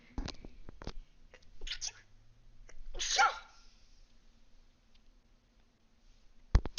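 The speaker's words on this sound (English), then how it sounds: "Oh, I'm gonna sneeze." A single close sneeze bursts out mid-clip, set among a few soft clicks and faint whispery breaths in an otherwise quiet room.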